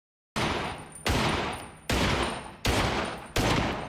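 Gunfire from the TV show Hannibal: five loud, sustained bursts of automatic shots, each lasting under a second and separated by brief gaps, with no talking.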